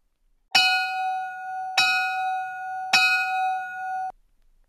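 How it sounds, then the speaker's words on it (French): A bell opens a podcast segment with three evenly spaced bright strikes, each ringing out clear and loud with a long sustained tone before stopping abruptly, alone without talk. "commençons le podcast en force avec le premier segment, au son de la cloche."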